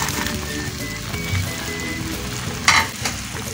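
Chopped onions are mixed into boiled chicken in a pot for a restaurant-style chicken handi, with a busy frying sizzle and one sharp, loud scrape of the spoon near the end.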